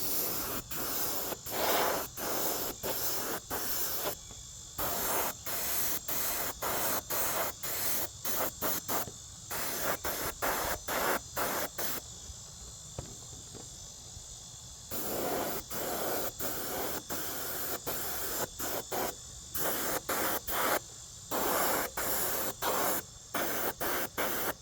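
Airbrush spraying paint onto a Losi NASCAR RC body shell, short hissing bursts in quick irregular succession with brief pauses and one longer gap, close and steady, no voices.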